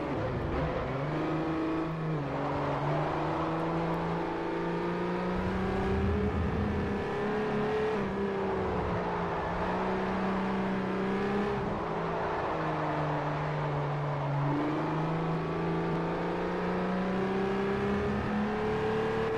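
A racing car engine in Forza Motorsport 4 drives continuously, its harmonic drone steady and close, pitch rising and falling through gear shifts and throttle changes, with no talk over it.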